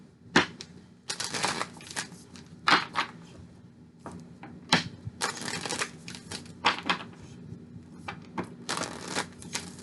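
Tarot cards for a love reading are shuffled again and again, a run of crisp riffling bursts with short pauses between them, close and fairly quiet, with no talk over it.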